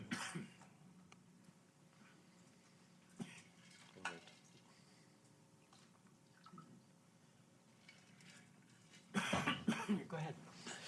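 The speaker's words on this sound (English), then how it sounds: "Pardon my cough." A single cough from a speaker at a Brookings panel event on energy transition and workforce development, followed by a louder burst of throat-clearing and coughing near the end. Faint room tone in between, with talk at the close.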